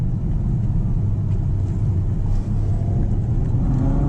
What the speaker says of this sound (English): This car definitely pulls. You can feel the torque from that V12.